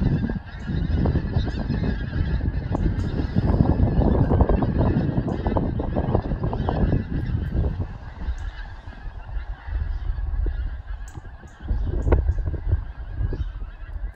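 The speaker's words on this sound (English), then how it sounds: "I love that the geese make a flight path of my garden." A flock of geese honks loudly and continuously as it passes overhead above a house and garden, a dense chorus of overlapping calls.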